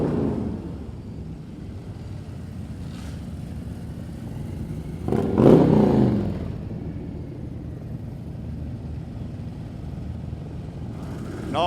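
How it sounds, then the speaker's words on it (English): Motorcycles in a Veterans Day parade crank up at a distance, a low steady engine rumble with one louder rev swelling midway and a second rise at the end, no talking. "you can hear the motorcycles cranking up"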